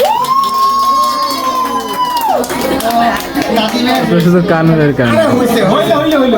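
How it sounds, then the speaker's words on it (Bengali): Relatives gathered at a family event at home in Dhaka clap and cheer loudly for Tazim. The noise is close and boisterous, with shouts, whoops and excited voices over the clapping. "ওর জন্য একটা জোরে হাততালি।"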